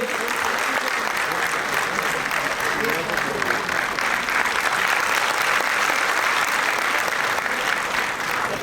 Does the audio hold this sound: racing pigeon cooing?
no